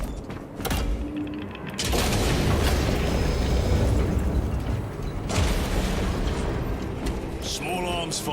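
Small arms fire rattles in the video game Space Marine 2, a dense, sustained burst of gunshots and booming blasts running loud for several seconds with mechanical clanks.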